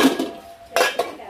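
Steel pots and pans clank and clatter as someone rummages through them in a home kitchen during festival cleaning: a busy jumble of metal knocks, then two sharper, louder clangs near the end, with no talking.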